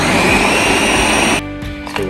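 A blender whirs loudly at full speed through pineapple, mango, sugar, milk and ice, then cuts off sharply, leaving a quieter hum and a few knocks as it winds down.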